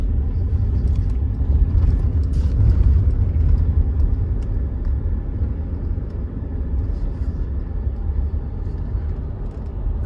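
A car drives along a road in Colorado, its steady low engine and tire rumble filling the cabin continuously from start to finish, without talk.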